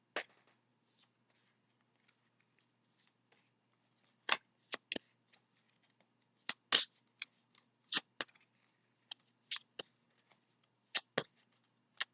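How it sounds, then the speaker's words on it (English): Angel tarot cards shuffled in crisp, irregular bursts of snapping and riffling, close and fairly quiet against a near-silent room, with gaps between the clusters and no one talking. "I'm going to pull out some angel tarot cards for you."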